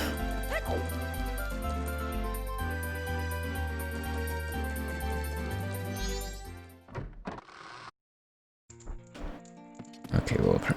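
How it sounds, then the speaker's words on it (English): Dog barking in the Majora's Mask video game, a yappy in-game bark heard over looping game music, which cuts out abruptly before further clattering game sounds. "I'm never gonna get used to that fucking dog sound."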